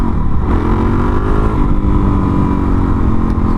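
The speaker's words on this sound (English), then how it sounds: "the DRZ 400 in particular, with its relatively lightweight 318-ish pounds and torquey 400cc engine, I mean, we're here in second gear" A Suzuki DRZ 400 motorcycle with a torquey 400cc single-cylinder engine pulls along off-road in second gear, its loud, close engine note droning steadily with slight rises in revs.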